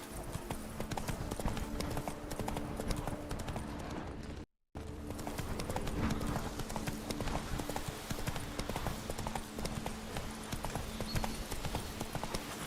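Horse hooves clip-clop at a steady trot in the video game Witcher 3, a continuous rhythmic clatter that drops out briefly midway before resuming, with no voices over it.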